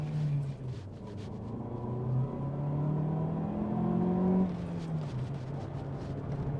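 A Rover 820 Vitesse's turbocharged engine pulls hard under full throttle from 2,500 revs, its drone climbing steadily in pitch, then dropping briefly at a gear change before building again, heard from inside the car.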